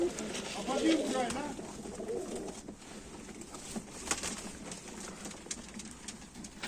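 Soft pigeon cooing in a low, rolling burble near the start, fading into a quiet background with scattered small sounds.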